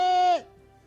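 A single sheep lets out one loud, clear bleat close by, a steady nasal tone that drops off abruptly after under half a second, leaving a faint low hum behind.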